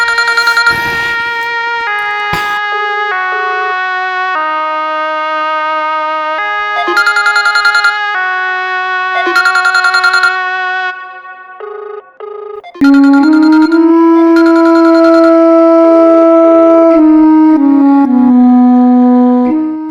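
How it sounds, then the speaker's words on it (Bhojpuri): A mobile phone rings on and on without being picked up, a loud, bright electronic ringtone melody looping with brief gaps, shifting to a lower, fuller tune partway through, close and with no one talking. "फोन नहीं उठाओ तू आके, घंटी तो जाते बा"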